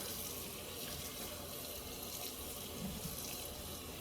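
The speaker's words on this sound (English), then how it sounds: "we're gonna rinse this out" Tap water runs steadily into a sink while a pair of Nike Court Vision sneakers is rinsed, a constant close broadband splash with no talk.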